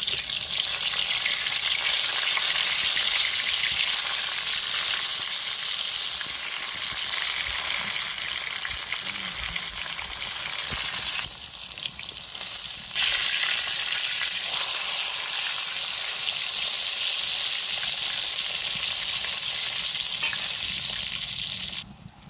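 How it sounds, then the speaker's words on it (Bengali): Eggplant pieces sizzle in hot oil in a heated pan for baingan roast, a loud, steady, unbroken frying hiss that runs close throughout with no talking. "তেল গরম হয়েছে, বেগুনটা দিয়ে দেই।"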